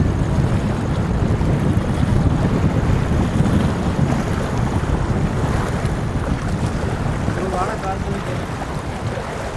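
Water released through the opened gates of the Bhavanisagar dam makes a constant heavy roar, heard from up on the dam. Strong wind buffets the microphone throughout.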